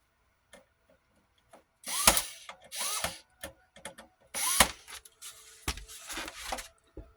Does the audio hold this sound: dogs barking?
no